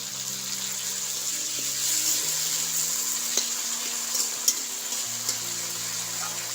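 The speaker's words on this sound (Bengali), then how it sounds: "সামান্য পরিমাণে জল দেবো যাতে সিদ্ধ হয়ে যায়" Water poured from a vessel into a pot of potatoes and pointed gourd on the stove, a steady close splashing stream running for several seconds over a low sizzle, with no talk.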